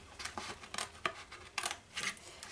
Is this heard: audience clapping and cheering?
no